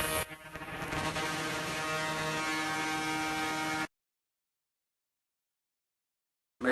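Ultrasonic cleaner of the dental-equipment kind starts up with a steady, loud buzzing hum and vibration that holds for about four seconds, stops abruptly into silence, then briefly resumes at the very end.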